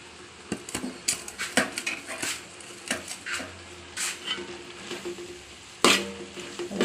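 A spoon scrapes and clinks against a cooking pot as ground coconut paste is stirred into a simmering dish, giving irregular knocks and scrapes with one louder clatter near the end.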